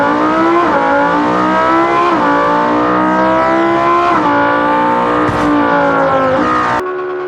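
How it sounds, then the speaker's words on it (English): Audi R8 in the BeamNG racing game under full acceleration climbing a steep ramp, a loud, sustained engine roar rising in pitch with brief shifts and dips, ending in a sudden cutoff. "full acceleration and climbing the 100-degree ramp"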